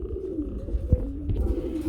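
Low, soft cooing of racing pigeons murmurs steadily through the clip, a few throaty coos rising slightly louder near the middle and end, fairly close.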